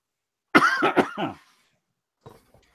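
A short burst of several harsh coughs close up, followed by a second of quiet and a faint, brief cough or throat noise.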